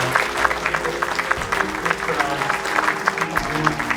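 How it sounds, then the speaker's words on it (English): An audience at a hotel's grand launch event applauds the chefs, a steady patter of many hands clapping at moderate distance for several seconds, with some voices underneath. "Can we have a big round of applause to all the chefs sitting here?"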